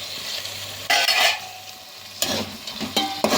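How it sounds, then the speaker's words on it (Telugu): Vegetables and chopped tomato for veg biryani are stirred in a cooking pot. A spoon scrapes in several quick bursts over a soft simmering sizzle, up close and fairly loud, with no talking. "వేసిన తర్వాత చక్కగా కలుపుకుందాము."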